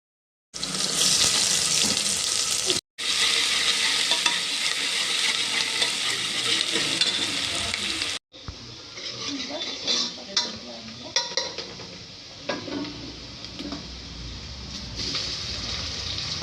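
Finely chopped medium onion frying in oil with pepper in a pressure cooker for mutton sambar, a loud dense hiss that cuts out briefly, then settles into quieter sizzling with scattered stirring scrapes.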